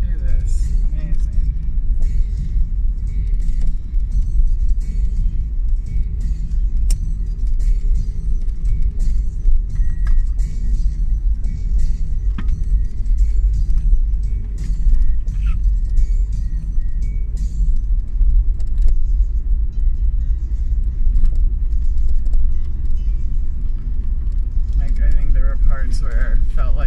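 A car driving across the Salt Lake flats, its low rumbling engine and road noise steady and close throughout, with occasional light rattles and people talking over it.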